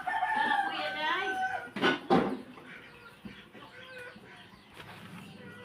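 Chickens and ducks on a farm at feeding time, a rooster crowing and hens clucking close by amid a busy outdoor din, with a loud burst of squawking near the middle.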